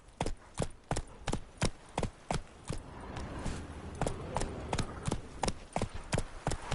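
Roach the horse gallops in The Witcher 3: Blood and Wine, hooves striking in a loud, quick, regular clip-clop that briefly blurs into a rougher, uneven patch midway before the steady beat returns.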